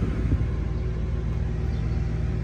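Heater blower fan running inside a 1963.5 Ford Galaxie, a steady low rumbling whir that holds at an even level throughout, close and without talk.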